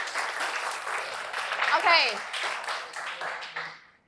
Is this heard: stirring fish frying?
no